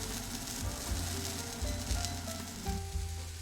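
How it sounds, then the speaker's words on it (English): Eggplant pieces fry over medium heat in a pan for Japanese miso eggplant rice balls, giving a steady close sizzle with soft low bumps and scrapes as they are stirred. "Cook them over mid-heat until the eggplant starts to sweat and become lightly browned"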